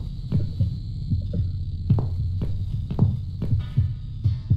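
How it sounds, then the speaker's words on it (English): A steady, throbbing heartbeat from the horror video game The Cat Lady pulses in regular low thuds over a constant droning hum, with no talking. "Oh, I am not liking this heartbeat."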